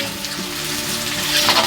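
Chopped onion frying in a pan for a fish-head moong dal, a close, steady crackling sizzle with soft stirring scrapes and no voices.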